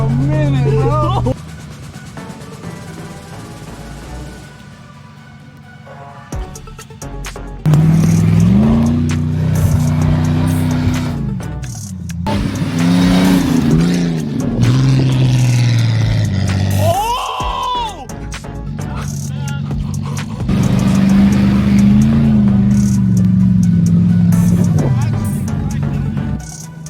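Two stock Jeeps rev and accelerate on sand dunes, engine roars surging and falling in loud bursts with brief quieter gaps, voices talking and exclaiming over the motor noise.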